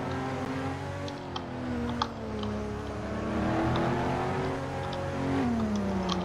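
An R32 four-wheel-drive race car engine in a Roblox racing game drones steadily with shifting pitch as it revs and pulls, loud and continuous, with a few faint clicks over the top.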